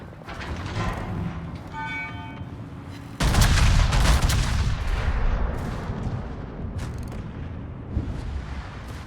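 Battleship main guns fire in World of Warships as a Massachusetts engages: one heavy, close boom bursts out and rolls into a long rumbling tail, with a smaller thud later over a steady engine and sea drone.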